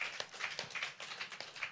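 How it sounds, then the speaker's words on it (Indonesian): An audience applauds Dr. Caput at a book discussion event with quick, soft, scattered clapping that sounds somewhat distant and lasts under two seconds. "Berikan tepuk tangan untuk Dr. Caput dulu"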